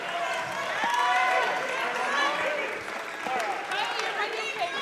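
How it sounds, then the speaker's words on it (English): A high school basketball crowd at a South High Bison versus Green River Wolves game applauds bench players in a steady, roomy wash of clapping and cheering, with an announcer talking over it. "And Alexander and the guys off the bench are getting a big applause that's much deserved."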